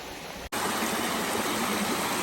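Creek water runs steadily over rocks and a small ledge in cool, breezy weather, a continuous close rushing wash after a brief cut near the start.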